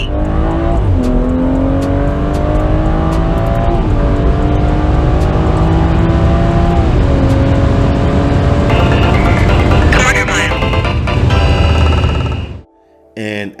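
BMW 340i F30 with minimal mods launching hard on a street, the engine revving loudly through several rising gear pulls before cutting off abruptly near the end.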